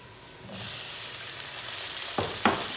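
A sudden loud sizzle as garlic and chopped tomatoes hit hot oil, settling into steady frying hiss with a couple of clinks from a utensil stirring the pan.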